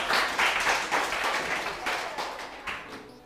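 Audience applause at a summer show performance, a steady wash of many hands clapping for a performer, fairly close and moderately loud, swelling in brief bursts for about three seconds.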